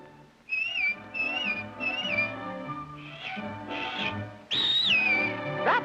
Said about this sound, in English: Anytime you need me, you know, just whistle.